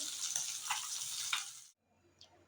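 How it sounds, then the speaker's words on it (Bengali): Rupchand fish coated in salt and turmeric fry in hot oil with a steady, close hiss and crackle for under two seconds, then the sound cuts off to near silence. "এখানে মাছগুলি ভেজে নিচ্ছি"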